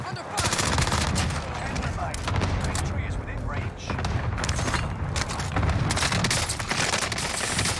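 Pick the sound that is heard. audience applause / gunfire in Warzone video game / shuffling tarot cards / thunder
gunfire in Warzone video game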